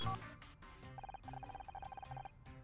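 A phone ringing inside a murder-mystery video game on normal difficulty, a repeated electronic ring in even, rapid bursts that continue for about two seconds over a low game background.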